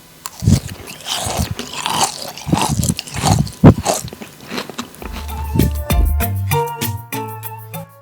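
Loud, close crunching and chewing of salsa macha with chilies and seeds, a run of sharp bites for about five seconds before music takes over.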